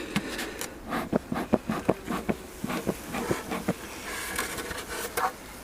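Honeybees at an opened hive being smoked in winter hum and buzz up close at a low level, with a steady drone broken by soft tapping and knocking sounds.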